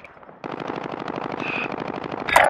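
Rapid automatic machine gun fire in a Warzone firefight, a dense rattling burst that starts after a brief quiet lead-in and runs steadily loud to the end, capped by a sharper blast.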